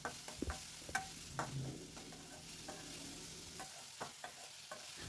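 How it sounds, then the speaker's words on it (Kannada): Chopped tomato frying in oil in a pan for a Kannada palak greens recipe gives a soft sizzle, with a few ladle clinks and stirring scrapes near the start and end. "ಟೊಮೊಟೊ ಸ್ವಲ್ಪ ಸಾಫ್ಟ್ ಆಗೋವರೆಗೂ ಎಣ್ಣೆನಲ್ಲಿನೇ ಸ್ವಲ್ಪ ಫ್ರೈ ಮಾಡಿ."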